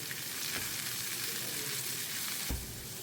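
Garlic, curry leaves and dried chillies fry in a pan for a curd tadka, giving a steady, close sizzle with a sharper crackling burst near the end.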